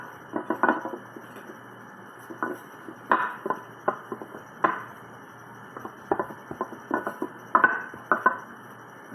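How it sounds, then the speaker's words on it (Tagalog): Ceramic plates and cutlery clatter and clink on a breakfast table in a long run of sharp, close knocks and scrapes, irregular and fairly loud, with no talking. "Ang ingay ng plato ko."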